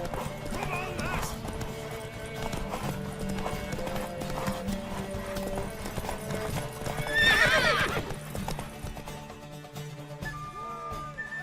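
A horse galloping in a race in the video game The Witcher 3, giving steady rhythmic clip-clop hoofbeats throughout, with a loud whinny near the middle and game voices speaking over the hooves.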